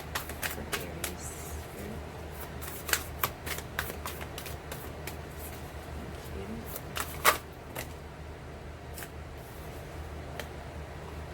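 Tarot cards are shuffled by hand in quiet surroundings, producing a string of soft, irregular riffling flicks and taps with a couple of sharper snaps, close and fairly faint.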